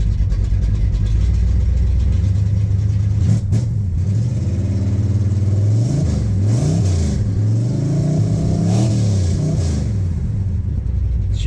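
A 1965 Chevelle's 350 V8 with a big cam and two-speed Powerglide runs cold, a loud lumpy idle that rises in several rev blips and falls back, with a slight hesitation, heard up close without talk.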